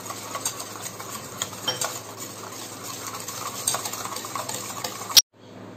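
Milk being mixed into doughnut batter in a bowl, a continuous close scraping and swishing of a utensil against the bowl with small clinks, ending abruptly, no talk.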